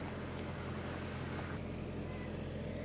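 Tractor diesel engine idling after repair, a steady low rumble with a constant droning hum, fairly faint and unchanging throughout.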